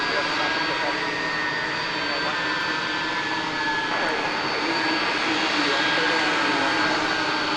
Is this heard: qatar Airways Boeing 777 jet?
yes